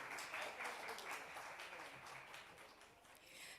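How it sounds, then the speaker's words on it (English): Audience applause for a panelist at a PR and corporate communications awards event, steady and fairly faint, as if heard from a distance, holding for a few seconds before easing at the end. "Might I encourage everyone to offer a loud round of applause to our panelist, Jasrita Dheer."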